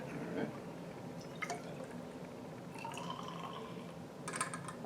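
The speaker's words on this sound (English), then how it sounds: "Can you go ahead and open it and pour it into the graduated cylinder?" Bottled water poured into a graduated cylinder, faint trickling and dripping splashes in short bursts, quiet and close, with no talking.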